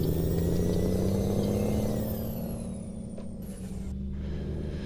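A Peterbilt 389 engine sound mod in Euro Truck Simulator 2 delivers a steady, deep diesel drone that slowly falls in pitch as the truck eases off, heard alone with a brief hiss near the end.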